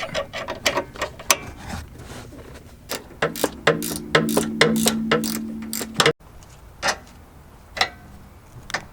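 A ratchet wrench with a 16 mm socket works a bolt on an Alfa Romeo Stelvio's suspension while fitting lowering springs, giving close, loud bursts of rapid clicking with short pauses between strokes.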